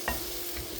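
Steady, close sizzling of chicken and vegetables, including celery, frying in a pan, with a faint scrape or two of stirring.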